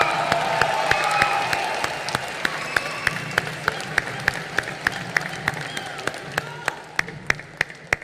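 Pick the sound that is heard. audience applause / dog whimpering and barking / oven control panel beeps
audience applause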